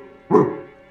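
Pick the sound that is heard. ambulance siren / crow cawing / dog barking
dog barking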